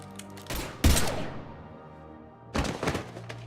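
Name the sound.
gunfire in Mass Effect 3 video game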